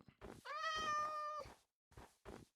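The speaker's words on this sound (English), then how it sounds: "Is it just the cat?" A cat in a video game gives one long, clear, drawn-out meow up close, followed by a couple of short, softer mews.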